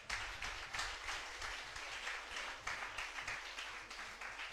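A church congregation applauding, a soft, steady patter of many hands heard from a distance, continuous with slight swells in loudness.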